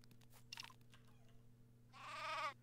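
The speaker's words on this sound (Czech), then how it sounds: "Tady je ovce." Sheep bleating in the video game Craft The World, one short call early and a louder, longer bleat near the end, both over a steady low game hum.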